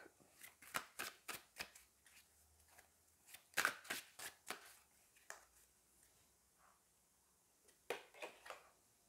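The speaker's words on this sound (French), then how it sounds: "Attendez, je vais mélanger encore un peu." Tarot cards being shuffled by hand in a quiet room, a steady run of crisp riffling bursts and snaps with short pauses between, close and fairly quiet, with no one talking.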